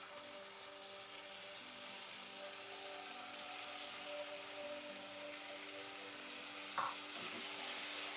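Diced potatoes fry in a pan for potato rice, giving a steady, soft sizzle and crackle throughout with one brief scrape of stirring near the end and no voices.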